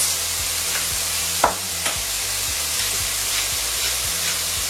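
Lardons sizzle in a frying pan with a little garlic while a quiche filling is prepared; a steady close hiss and crackle runs throughout, broken by a couple of brief clinks or stirs.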